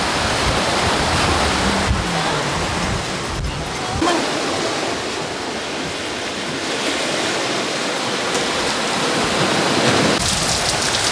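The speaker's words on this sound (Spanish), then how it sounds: "Y bueno, empezó a llover." Rain pours at a beach in Pinar del Río, Cuba, a broad steady roar of falling water mixed with surf that fills the whole stretch, fairly loud with no clear talk.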